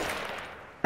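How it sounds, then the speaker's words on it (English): A single loud shot from a firefight in the horror video game The Evil Within rings out and decays, then a fresh sharp blast cuts in at the very end. "They're shooting."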